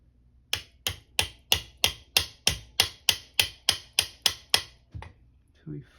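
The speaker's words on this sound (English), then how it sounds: "then just hit it with a hammer." A hammer strikes a punch on an AR-9 pistol during a safety install, about a dozen sharp metallic taps in a quick, even rhythm, close and crisp, ending with a couple of softer, spaced hits.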